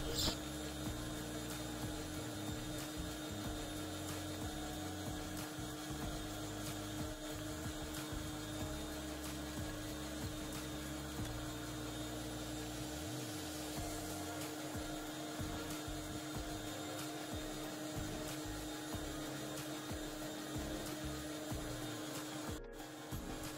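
Electric mixer beating powdered sugar into egg yolks for a marble cake, a steady loud whirring motor drone that runs continuously throughout.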